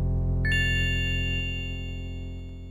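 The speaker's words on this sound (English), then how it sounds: "I'll finish the comparison with music from TIE Fighter." TIE Fighter game music rendered through FM synthesis in DOSBox rings out as a bright, bell-like chord over a sustained tone, fading slowly with no voices.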